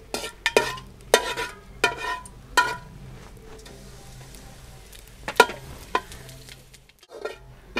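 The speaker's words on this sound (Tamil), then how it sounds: "இப்போ பெருஞ்சீரகத்தை போட்டுடுவோம்." Fennel seeds tossed into hot oil already holding cinnamon bark crackle in a pan, with sharp clinks and stirring scrapes of a spoon against metal repeating over a steady low sizzle, close and fairly loud.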